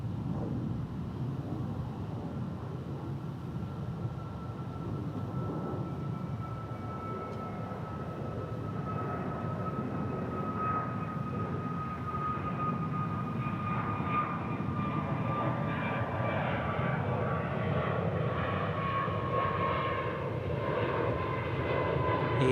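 An American Airlines Airbus A321 jet at DFW airport roars steadily and loudly, its engine drone holding a rising whine throughout with no talk over it.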